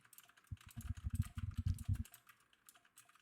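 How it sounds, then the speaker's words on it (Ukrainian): Rapid, clacky mechanical keyboard keystrokes in a quick burst of typing lasting over a second, close to the microphone, followed by quieter stray clicks. "Звук клавіш механічної клавіатури."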